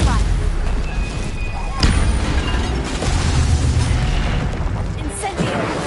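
Stupefy, a stunning spell, cast in the Hogwarts video game, bursting out in loud booming blasts over dense, continuous game noise, with one sharp hit near the middle and another toward the end.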